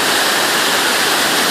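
El Limón waterfall in Samaná, Dominican Republic, pours with a steady, dense roar of rushing water, close and loud throughout.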